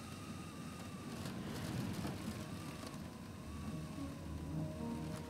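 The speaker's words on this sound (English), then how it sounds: "How good's the rain?" Steady rain in the video game Shadows of Doubt, a continuous hiss over a low rumbling city ambience with no talk.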